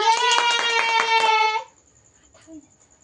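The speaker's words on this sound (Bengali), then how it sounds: "হাততালি বাজাও।" Quick, even hand claps, about six in a row, ring out over a loud sustained high-pitched voice as a child is encouraged to clap at home. Both stop together, leaving near silence with a faint thin tone.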